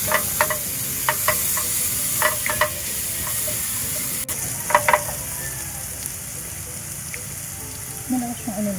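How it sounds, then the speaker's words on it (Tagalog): Longganisa sausages and hotdogs sizzle and spatter together in a pan at a foggy Cavite campsite, a steady close frying hiss broken by sharp pops and scraping stirs. "Langgonisa at saka hotdog pinagsasabay ko."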